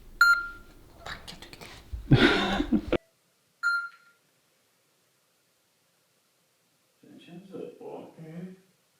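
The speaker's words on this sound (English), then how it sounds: "I added a beeping sound." Electronic beeps added to a phone screen recording: two short, clear tones, one at the start and another a few seconds later, separated by rustling noise, with voices heard in between and near the end.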